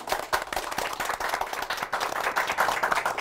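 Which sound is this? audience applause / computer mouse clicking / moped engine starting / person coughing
audience applause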